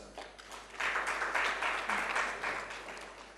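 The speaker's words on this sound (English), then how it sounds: "Let's welcome with a round of applause." Brief burst of audience applause, many hands clapping together, swelling and then tapering off.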